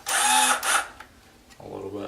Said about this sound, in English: Should have charged my drill too.